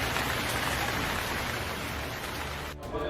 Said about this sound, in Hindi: यज्ञ के तुरंत बाद अच्छी बारिश ने उपस्थित जनों को ठंडक और ताजगी का एहसास कराया।